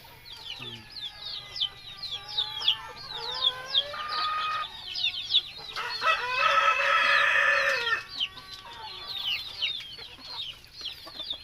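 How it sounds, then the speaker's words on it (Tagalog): A large flock of free-range chickens with newly hatched chicks fills the air with clucking, peeping and repeated rooster crows, busy and close, with a louder burst of squawking in the middle and occasional faint voices. "hindi ko na mabilang kung ilan to lahat pero sobrang dami nila no kasama na yung mga sisiw na bagong pisa"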